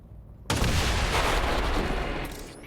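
Claymore explosive detonating in the game XCOM 2, a sudden loud blast after half a second of quiet that rolls into a long rumbling roar and slowly fades.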